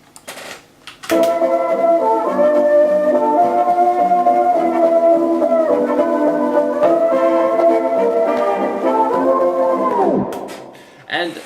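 Sample chopped and processed with Gross Beat in FL Studio: a sustained, bright tonal passage with pitch bends and gliding tones, fairly loud and continuous, ending in a downward pitch drop.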